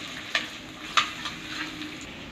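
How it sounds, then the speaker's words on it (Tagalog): Ginger sautés in a hot pan for beef pares, giving a steady close sizzle with a few brief clicks of a utensil stirring, and no voices. "isunod na natin ang luya. Igisa lang ho natin sila."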